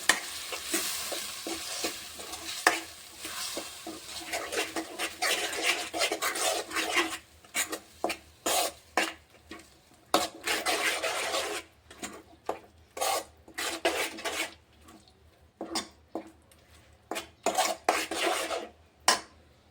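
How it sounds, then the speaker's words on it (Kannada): Lemon pieces are mixed with masala spices for a chutney in a pan, making repeated close rasping, scraping and rubbing strokes with short pauses between bursts. "ಇದನ್ನ ನೀಟಾಗಿ ಪೂರ್ತಿ ಮಸಾಲೆ ಮತ್ತು ನಿಂಬೆಹಣ್ಣು ಮಿಕ್ಸ್ ಆಗೋ ಥರ ಮಿಕ್ಸ್ ಮಾಡ್ಕೊಳಮ್ರಿ"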